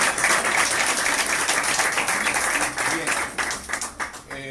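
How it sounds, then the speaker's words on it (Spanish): An audience gives a warm round of applause at an evening peace forum in Colombia, dense steady clapping that thins out toward the end, with voices mixed in. "le regalemos un aplauso"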